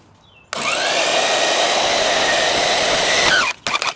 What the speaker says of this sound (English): I was using my grinder last time I cut these tubings, but this time I decided, nah, I'm just going to use my porta band.